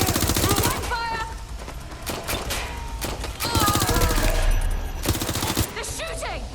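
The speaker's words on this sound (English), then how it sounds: "They're shooting!" Rapid gunfire bursts in the video game Watch Dogs Legion, loud repeated volleys and single shots layered over in-game voices talking and shouting.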